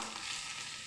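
Onions fry in a pan for chitranna, giving a brief, steady, bright sizzle that fills the moment with no voices.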